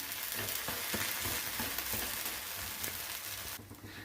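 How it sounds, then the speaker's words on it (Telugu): An onion dosa fries in oil on a pan, a dense, hissing sizzle that holds steady and softens slightly in the last half second, with no talking. "దోశ వేగింది"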